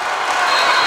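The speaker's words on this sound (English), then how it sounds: "The Mustangs have got the crowd back into it, as you can see and hear" A crowd at a boys' high school basketball playoff game applauds and cheers, a dense, sustained roar of clapping and voices that swells slightly toward the end.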